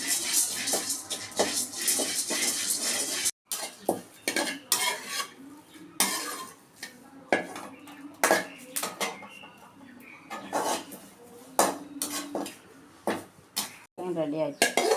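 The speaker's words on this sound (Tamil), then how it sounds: "ஒரு கப்பு பொட்டுக்கடலை வறுக்கணும்." Roasted gram dal is dry-roasted and stirred in a pan for multigrain idli podi. A spoon scrapes and clinks against the pan in close, irregular bursts with brief pauses between strokes.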